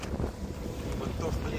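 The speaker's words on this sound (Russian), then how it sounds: "Поднялся ветер." Strong wind gusting over open water around a catamaran on a river trip near Astrakhan, a loud, continuous broadband roar buffeting the microphone.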